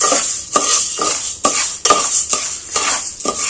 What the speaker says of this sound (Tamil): ஒவ்வொன்றா நம்ம எல்லா சாமானையும் வறுப்போம்